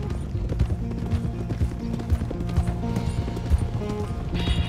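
Horse hooves clip-clop at a steady walk through a first-person Red Dead Redemption 2 scene, fairly close and continuous, with a rhythmic low thud under light ambient game sound and no speech.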